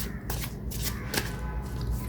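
Tarot and oracle cards are shuffled by hand in several quick riffling bursts with short pauses between them. The sound is close and crisp, and there is no talk.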